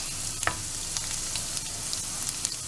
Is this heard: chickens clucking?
no